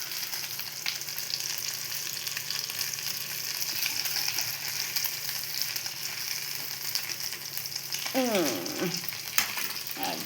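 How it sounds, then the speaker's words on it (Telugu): Gulivinda fish frying in a pan, a steady close sizzle with brief scraping stirs near the end, no talk. "గులివింద ఫిష్ ఇలా ఫ్రై చేసానండి."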